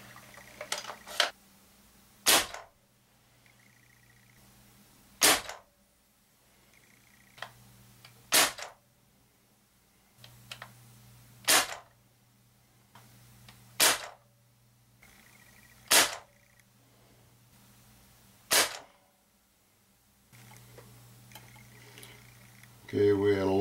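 A Daisy Winchester M-14 CO2-powered BB rifle fires about nine sharp, close shots spaced a few seconds apart across a chronograph, each a crisp crack with a short metallic ring, and quiet handling noises between them.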